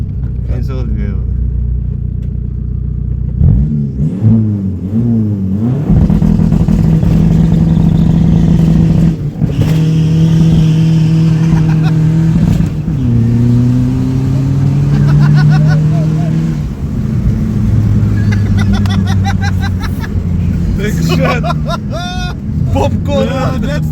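Tuned MK2 car engine revving hard against a remapped rev limiter, a loud sustained drone that bounces and stutters at the cutoff, with pops, close by, while people talk and shout over it.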